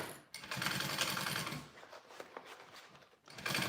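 A sewing machine stitches a gusset seam with a half-inch seam allowance for a dragon sling, running steadily and close with a dense mechanical whir, pausing briefly near the start and again toward the end.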